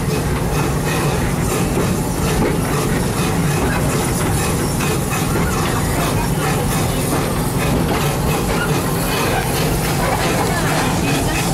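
The Serengeti Express train at Busch Gardens rumbles steadily along its rails with a constant rattle and hiss, heard from on board, while a voice speaks over it.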